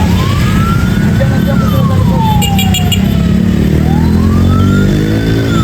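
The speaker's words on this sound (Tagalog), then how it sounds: "Kaya buminito muna tayo, dadaan yung ambulansya." An ambulance siren wails loudly in rising and falling sweeps as the vehicle passes on a city street, over a heavy low rumble of traffic and engines, with voices faint in the mix.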